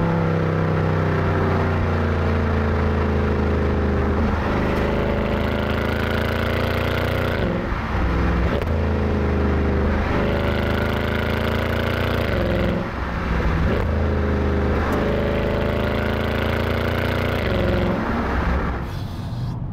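A Mercedes C63 AMG W204 V8 engine accelerating hard in manual mode, loud and close, with rising revs through several gears and brief dips at each shift, no talking.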